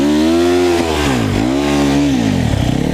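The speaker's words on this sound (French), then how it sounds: "La moto sur la cuisse, le pied sur le cale-pied, vous accélérez jusqu'il faut." Enduro motorcycle engine revving loud and close during a skidding U-turn, the pitch rising, dipping and climbing again as the throttle is worked, with no talk over it.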